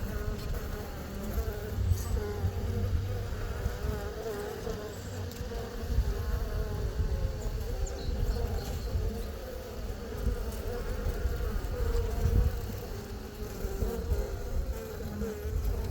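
Honey bees drone steadily around an open hive during an inspection of frames with honey-filled cells, including Apimaye 7-frame nuc and 10-frame hives. The buzzing is close, continuous and dense, with no talking.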